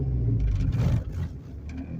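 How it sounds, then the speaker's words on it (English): A manual-transmission car pulling away in second gear, a steady low engine rumble that swells under load and then eases slightly, close and continuous, with no talk. "Or you can take off from second like I'm getting ready to do, then shift into third."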